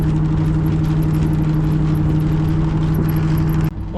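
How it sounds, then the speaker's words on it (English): A car approaches down the road with a steady, loud engine drone and hum that holds nearly four seconds before cutting off abruptly. "There's a car coming!"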